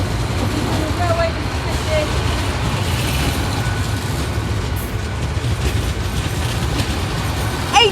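An East Midlands Railway Class 810 Aurora train pulls into Nottingham station with a steady, loud rumble of wheels and motors that fills the whole stretch, and a faint brake squeal comes through briefly.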